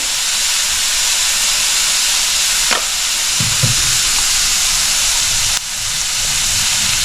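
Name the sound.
sautéing spinach curry in pan with mustard seeds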